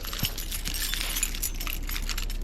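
A bunch of keys jangles close by during a battery change on a Suzuki Busa motorcycle, a continuous bright metallic jingle with small clinks throughout.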